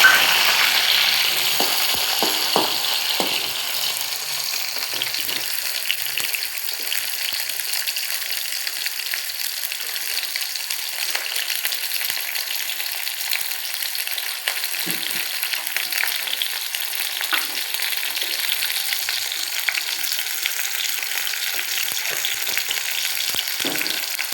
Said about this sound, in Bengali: তেলে এবার পেঁয়াজের চামচটা দিয়ে দিলাম।